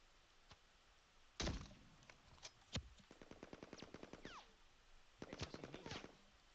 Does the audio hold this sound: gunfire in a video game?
yes